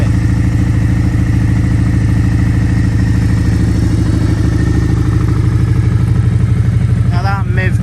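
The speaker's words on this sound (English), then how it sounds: "Now that MIV carbon exhaust there has really opened up that amazing V-twin sound. It sounds nice at idle" A 2017 Suzuki SV650 V-twin with a carbon exhaust idles close by with a steady, loud, lumpy throb, its pulses even and unbroken; someone talks briefly over the engine near the end.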